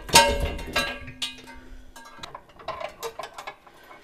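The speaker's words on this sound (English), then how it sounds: "Now we can just lift the head plate up on top of those shoulders." A metal B&W fifth wheel hitch head plate is lifted onto its shoulders, giving a loud metallic clank up front, a ringing tone and then scattered lighter clinks and taps.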